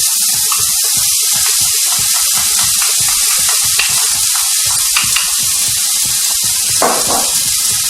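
One cup of chopped onion and a clove of chopped garlic frying in a pan for a gratin, giving a steady, loud, close sizzle with a crackling hiss throughout and no talking.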